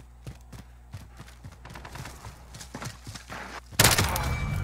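In Modern Warfare, scattered single gunshots crack at an uneven pace, then a louder burst of game gunfire erupts near the end.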